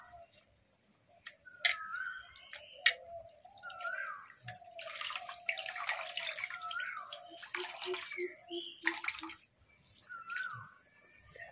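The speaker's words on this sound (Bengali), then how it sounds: "এই থালাটা ধুয়ে নিই, জলটা সরাই দিই এদিকে" Plate being washed with water while making a traditional North Bengal pumpkin-leaf fritter, with close drips, splashes and small clinks coming in irregular bursts, the loudest washing in the middle and quieter dribbles toward the end.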